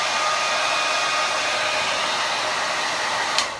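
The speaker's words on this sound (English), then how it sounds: "I will be using my red handleless blow dryer." A red handleless blow dryer on its cold setting roars with a steady, loud airflow hiss throughout, ending with a brief click-like burst near the finish.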